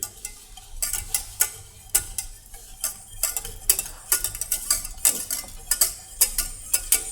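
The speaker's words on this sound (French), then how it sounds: "Tu peux mélanger." A utensil scrapes and clinks against a pot while stirring flour paste, quick irregular metallic ticks and scrapes repeating throughout at close range, with no talking.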